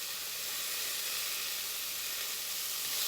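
Ground meat browns in a pan for nikujaga, giving a continuous even sizzle and hiss at moderate level, close by with no voices.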